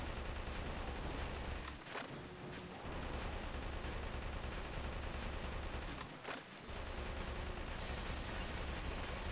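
Gunfire in Metal Wolf Chaos XD while shooting a statue: loud, continuous rapid fire with heavy booming impacts, broken by two short pauses.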